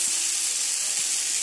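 Tomatoes cooking down with ground beef in a pan, giving a steady, close sizzling hiss that carries on evenly with no talking over it.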